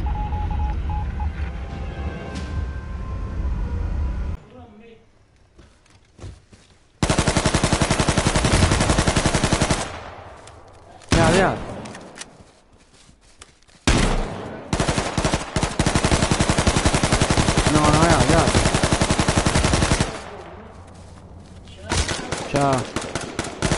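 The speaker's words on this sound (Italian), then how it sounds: "attenzione che ci sono degli spari" Bursts of rapid automatic gunfire in a video game erupt repeatedly, loud and close, separated by quieter gaps with faint background sounds.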